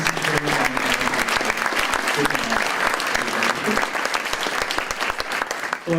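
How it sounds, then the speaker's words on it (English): Enthusiastic audience applause for panelists at a community report event, a dense, continuous roar of clapping with a few faint voices mixed in, loud and close for the whole stretch. "let's give our panelists that spoke another round of applause"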